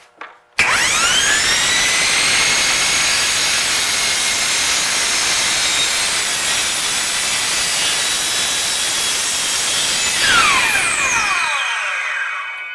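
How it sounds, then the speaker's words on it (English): Kobalt 12-inch sliding miter saw spinning up and cutting, a loud whining motor roar with sustained high blade tones, then the blade winding down with falling pitch near the end. "This time I'll bring it out this way, then plunge it down."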